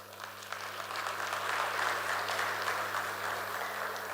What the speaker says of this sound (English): A round of applause to our chair, presenter, and panelist.